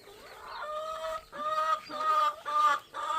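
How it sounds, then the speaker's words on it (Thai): Close-up laying hens clucking and murmuring in a backyard coop in a few drawn-out, repeated calls, fairly quiet with short pauses between them. "มีไก่ไข่"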